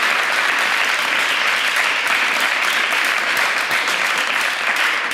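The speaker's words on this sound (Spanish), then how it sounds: "vamos a dar un aplauso" Loud, dense applause from an audience at a mathematics talk, steady and continuous throughout with no break.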